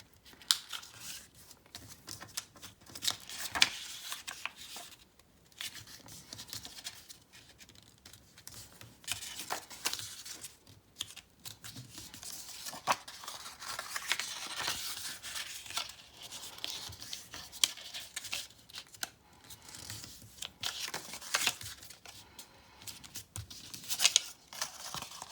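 Sheets of paper being folded accordion-style into tight concertina pleats for a Christmas poinsettia decoration, giving a steady run of soft crinkling, creasing and rustling close by with no voices.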